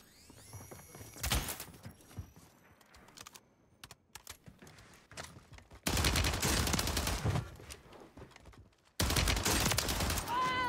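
Gunfire from Warzone 3 with an STG 44 loadout comes in loud, dense bursts separated by quieter stretches, with a sharp rapid volley near the end.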